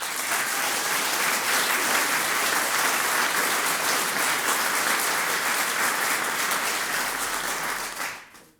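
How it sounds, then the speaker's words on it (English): Sustained loud applause from an audience in the Long Gallery at Stormont for doctors, dense clapping holding steady for about eight seconds before fading out quickly. "all of those doctors need a round of applause"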